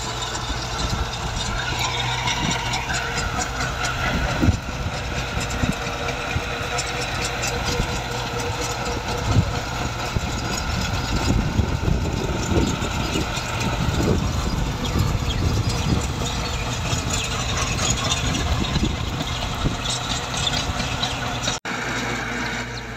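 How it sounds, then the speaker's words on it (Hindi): A Massey 385 tractor powers a rotavator, its diesel engine chugging steadily and loudly up close with a rough, throbbing low rumble and rattling clatter throughout, and no talking audible over it. "तो ट्रैक्टर दी आवाज़ा तुसीं सुन ही रहे हो,"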